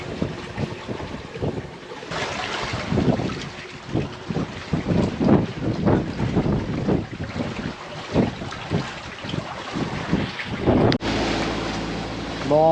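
Gusty wind buffets a sailboat at an exposed anchorage while waves slap and wash around the hull, a rough, uneven roar with sudden louder bursts and no talk.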